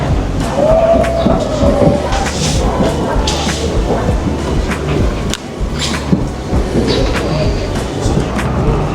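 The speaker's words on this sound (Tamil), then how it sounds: "ஃப்ரீ ட்ராம் ஜோன் பாருங்கள், அப்படி போகிற மாதிரி" Melbourne city tram running through the free tram zone, a steady loud rumble and rattle of the moving car with a brief wheel squeal near the start and people talking in the background throughout.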